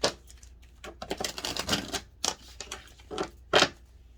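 A deck of tarot cards being shuffled by hand at close range, with irregular quick riffling and flicking clicks and a few sharper snaps, and no talking.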